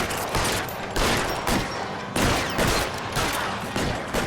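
Gunfire in a shootout in the video game L.A. Noire: a fusillade of loud, close bursts, roughly seven or eight, arriving in rapid uneven succession.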